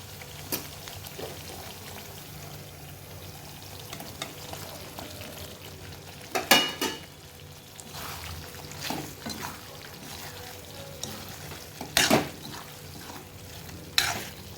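Paneer cubes fry in ghee for a paneer ghee roast, a soft steady sizzle with intermittent stirring scrapes and clinks of a spoon in the pan.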